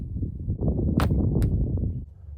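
An arrow strikes an archery target in two sharp, close impacts about half a second apart, standing out above steady low background rumble.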